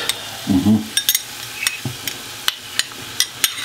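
Onion goes into a sizzling flour roux for a mustard sauce with boiled eggs: a brief burst of frying hiss, then scattered stirring clicks and scrapes against the pan over a quiet background.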